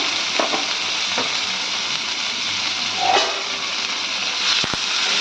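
Onion, green chili, tomato and cashews go into hot oil together and fry with a loud, continuous hiss, broken by a few clinks and stirring scrapes.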